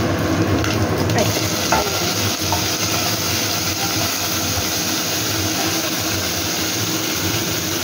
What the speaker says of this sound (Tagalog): Itong ginigisa ko na to guys.